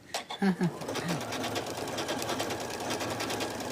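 A domestic sewing machine stitches quilting on a tote bag, a fast, even mechanical whirring close by that runs steadily after a few quick words of speech at the start.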